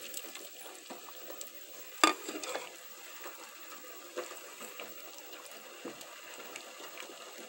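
Tomatoes tumble into a pot of salmon sinigang with one sharp thud, followed by soft scraping and stirring, light bubbling and scattered small clinks, all fairly quiet and without voices.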